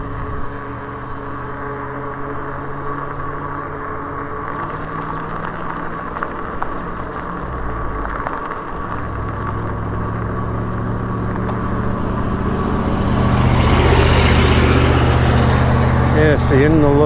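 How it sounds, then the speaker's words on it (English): A truck comes up from behind a cyclist on a morning e-bike ride along hilly rural road, its engine rising from faint to loud and roaring past near the end over steady wind and pedalling noise. "Got a truck coming up behind me."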